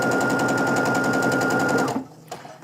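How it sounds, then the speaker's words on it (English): A sewing machine stitches quilting fabric pieces of 60-degree triangles in a fast, steady rhythmic whir for about two seconds, then stops abruptly, leaving a faint click. "So let's get sewing."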